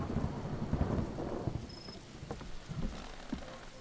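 Steady rain and rolling thunder fill a horror game Blackthorn Lockout scene, a dense, loud rumble with pattering drops throughout and no voices.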